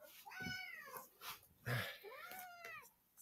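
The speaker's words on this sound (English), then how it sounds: "My second cat's name is Furball." A pet cat meows several times, drawn-out, close meows in a quiet room, one slightly louder and sharper near the middle, with no talking.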